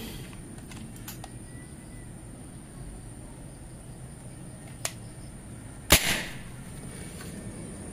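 A Predator Mini Python air rifle with a 35 cm barrel, Dural OD38 build at 2700 psi, fires a single sharp shot at close range, followed by a short ringing tail, over a quiet background.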